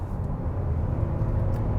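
A 2020 Hyundai Palisade SUV is floored from inside the cabin, giving a steady, loud engine drone with road rumble that holds without a clear rise.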